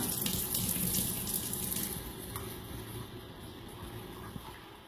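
Tap water runs steadily into a sink while a makeup brush is being washed, a continuous close hiss and splash that eases slightly partway through, with no talking.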